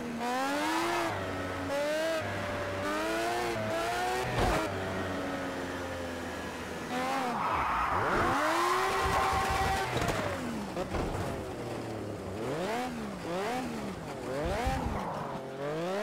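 A Mazda MX5 engine revs and wails through a drift in the racing game Project CARS 2, its pitch sweeping up and down continuously and loudly with a brief tire-squeal burst midway, no voices over it.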